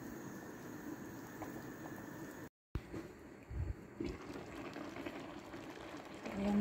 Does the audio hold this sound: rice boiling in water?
yes